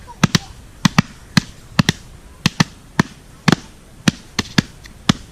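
Earth bag being tamped, a series of sharp, loud thumps struck close by in an irregular rhythm, about a dozen impacts with short gaps between them.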